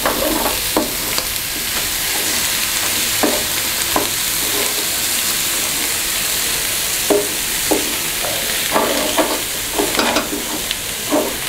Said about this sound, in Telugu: ఇవన్నీ అంతా చక్కగా కలిసేటట్టు కలుపుకోవాలి